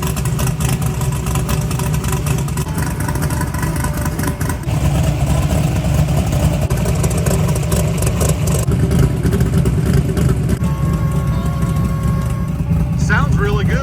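A rebuilt Chevy S10 engine, freshly fitted with new pushrods after a top-end teardown, runs steadily with a low, continuous rumble close by, its level rising slightly partway through.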